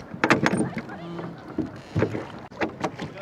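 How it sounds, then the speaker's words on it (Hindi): Rowboat being rowed by hand on the river at Arashiyama, Kyoto: a few splashing oar strokes and knocking against the hull, close by, with people talking in between. "पैडलिंग इज इजियर बट ये हाथ से बोट चलाना वाला इट्स वेरी डिफिकल्ट"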